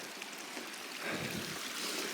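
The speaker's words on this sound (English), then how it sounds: "Got a little bit of a creek here." A small mountain creek in Wyoming's Medicine Bow range flows close by with a steady, broad rushing and trickling wash that swells slightly halfway through. No voices are heard.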